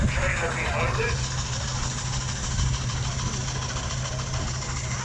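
A half-size McLaren steam traction engine towing a period-style trailer in a village steam parade, giving a steady low chuffing rumble close by, with people talking over it.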